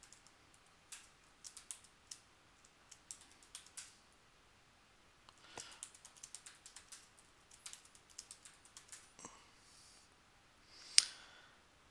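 Password typed on a computer keyboard during a virtual machine setup, a quiet close series of light, irregular key taps in short bursts with pauses and a sharper click near the end.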